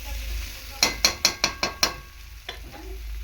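Soybean curry being stirred in a pan, a quick run of six sharp scraping knocks of a spoon against the pan over a low sizzle, followed by one fainter scrape.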